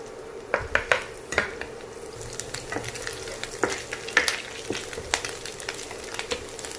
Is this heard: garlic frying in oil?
yes